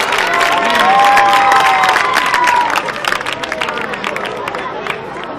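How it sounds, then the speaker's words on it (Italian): An outdoor audience at the Sagra del Pane Caldo village festival in Pallica claps and cheers for a band, with loud scattered claps, shouts and crowd babble that ease slightly after a few seconds. "continuiamo con questo grandissimo applauso"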